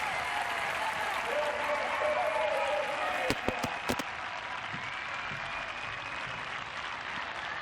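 A stadium crowd at a Spain versus Russia women's match rises in a standing ovation, sustained loud applause and cheering with a few sharp knocks or bangs near the middle.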